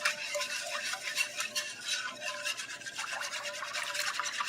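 Flour being stirred into milk in a pan for sausage gravy, a utensil scraping the bottom and sides in a steady rubbing, rasping rhythm, close and alone without talk.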